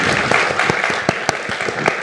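An audience at a literary reading applauds, dense clapping at a fairly loud level with a few sharper individual claps standing out through the short burst.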